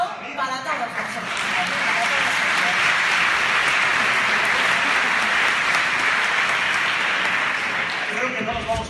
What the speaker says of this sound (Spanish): voy a pedir otro aplauso para todos vosotros